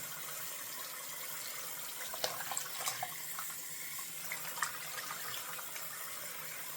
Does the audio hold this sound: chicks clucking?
no